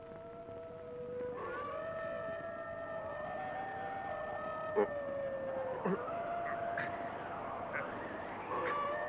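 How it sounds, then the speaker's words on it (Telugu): Jackals howl at night near a fort, several wavering cries rising and sliding over one another in a continuous chorus, moderately loud, with a few sharper yelps breaking through, no speech. "నక్కలు కూస్తున్నట్టున్నాయి."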